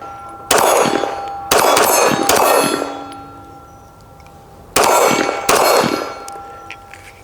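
Shots fired from an Apollo 11 pistol at a shooting range, loud sharp reports in a broken rhythm of three quick shots then two more, each ringing off steel targets with a sustained metallic ding, no speech.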